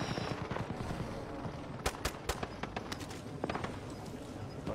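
Rapid bursts of gunfire in the Warzone video game crack out in clustered volleys mid-fight, sharp close shots standing out over steady game ambience and footsteps.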